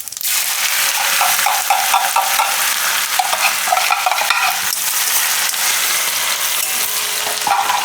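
Cumin, asafoetida, ginger, green chili and garlic frying in hot oil, giving a loud, continuous, close sizzle with crackling and stirring scrapes throughout.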